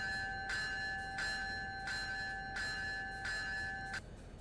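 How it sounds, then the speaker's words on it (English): An electronic bell on an Amtrak cab car in Trainz Simulator 2 rings in steady, evenly spaced strikes, about six clear dings over a few seconds, with no voices. "they have an e-bell for the cab car"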